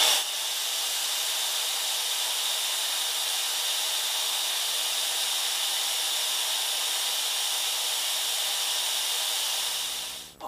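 A rotary tool fitted with a spherical bit smooths and buffs the edges of holes drilled in a DIY paddle, giving a steady, loud high-pitched whir that runs unbroken and alone, then cuts off at the end.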